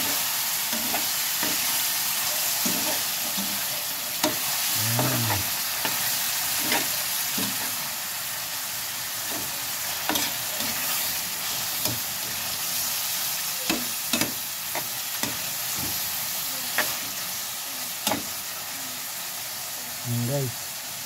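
Chicken liver and gizzards fry in a pan with a steady loud sizzle and hiss, broken by scattered clinks and scrapes as the pieces are stirred.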